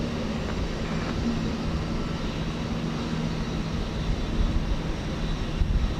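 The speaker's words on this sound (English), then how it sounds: "Aero Mexico Flight 419 off to Mexico City, 737-800" An Aeromexico Boeing 737-800 jet departs Houston Intercontinental with a distant, steady low roar and faint engine drone, rising slightly toward the end.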